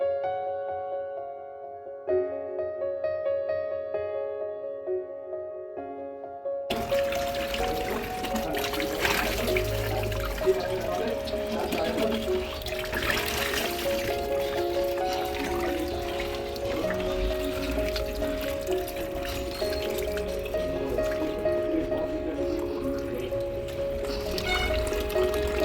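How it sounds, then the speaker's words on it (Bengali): Water runs steadily as it fills drinking water bottles at home, a continuous trickling pour that carries on for the whole stretch at close range. "খাবার জলের বোতলগুলো সব ভরা হয়ে গেছে"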